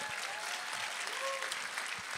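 A congregation clapping for someone seated in the front row during a church service, a brief, moderately soft burst of many hands with a faint tonal hum running underneath.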